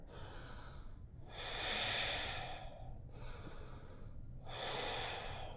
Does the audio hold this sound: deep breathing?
yes